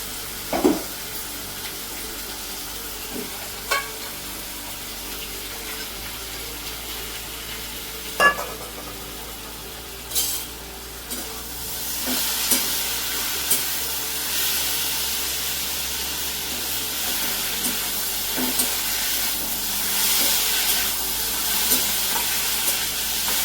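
Steady frying sizzle of potatoes in a pan with a few sharp clinks and scrapes of utensils, growing louder and hissier partway through; no talking.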